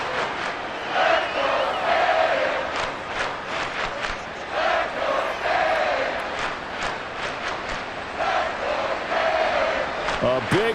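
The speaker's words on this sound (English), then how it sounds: "A big play here as the crowd noise rises." Stadium crowd roaring throughout a Madden 24 football game on PS5, a loud, steady swell of many voices rising and falling in waves, with no clear individual speech.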